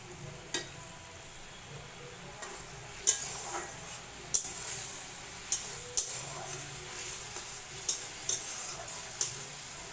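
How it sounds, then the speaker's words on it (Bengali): Spice paste loosened with a little water cooks down in a pan over raised heat, a soft continuous sizzle broken by sharp scraping and clinking strokes of a spoon stirring at irregular intervals. "মশলাটাকে কষিয়ে নিচ্ছি"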